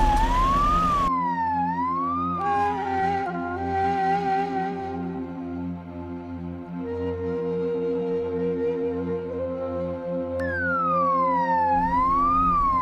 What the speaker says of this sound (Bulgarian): Още чувам звука на линейката.